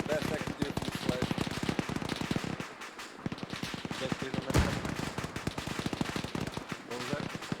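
Rapid bursts of turret gunfire rattle in a military shooter game's campaign mission, dense and loud with near-continuous shots and a heavier blast midway, while voices talk over the firing.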